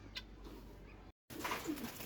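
Pigeons kept at home coo softly in a few low, throaty calls over faint room noise, with a short silent gap partway through.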